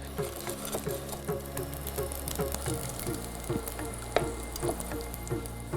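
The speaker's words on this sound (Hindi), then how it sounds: "तेल गरम होते ही इसमें मैं डालूंगा लहसुन की कुछ कलियां हैं और इनको हम ब्राउन कर लेंगे" Garlic cloves browning in hot oil over a low flame, a steady, moderate crackling fry with dense small pops and a low constant hum underneath, one sharper tick standing out.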